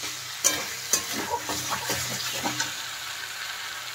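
Fried cauliflower being mixed into cooked spice masala in a pan, with rhythmic scraping stirs roughly every half second over a low sizzle, close and clear, without speech.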